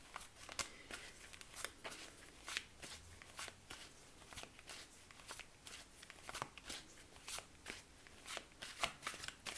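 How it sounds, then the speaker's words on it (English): Tarot cards are shuffled by hand in quick, steady riffling and slapping bursts, close and clear throughout, with no voices. "I'll just give these cards a bit of a shuffle."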